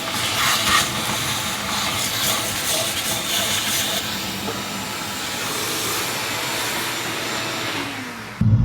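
A vacuum cleaner sucks ash out of a Harmon pellet stove's burn pot, a loud, steady close roar and hiss with rattling debris that winds down at the end.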